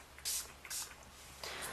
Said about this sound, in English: So I'm going to hold it about 8 to 10 inches away from my face again and spray.